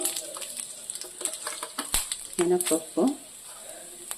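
Hot oil crackles and sizzles in short bursts as dried red chillies are stirred in a pan for tempering curd, with a few scraping clatters; close and fairly quiet.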